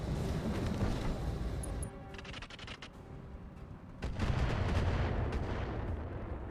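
Swarm missiles firing in the mech video game Roguetech, a dense, rumbling barrage of launches and impacts that dips briefly in the middle and then surges back heavy and continuous.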